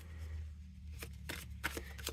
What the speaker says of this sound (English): So let me just shuffle it real quick.